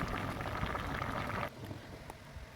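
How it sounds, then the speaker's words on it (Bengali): Mangoes boiling in a covered pot give a steady, loud bubbling hiss that drops abruptly to a quieter simmer partway through. "এখন আমি গামলাটা দিয়ে আমগুলো সব ঢেকে দেবো, ঢেকে বলক উঠিয়ে নেব।"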